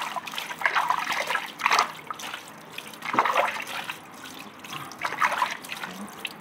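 Water poured and splashing while dogs are bathed: uneven gushes and trickles in several bursts, close by, with no talk.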